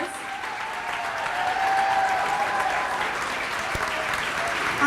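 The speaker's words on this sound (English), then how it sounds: "Please give them a thunderous round of applause." Sustained audience applause at an elementary school closing ceremony, steady and full for about five seconds with a faint tonal hum running beneath the clapping.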